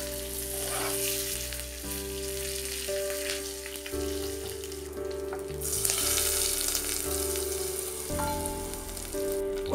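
Mustard seeds, fenugreek, a dried chili, asafoetida and curry leaves fry in hot oil for a vegetable gravy tempering, giving a steady close sizzle and crackle with faint stirring and no talk.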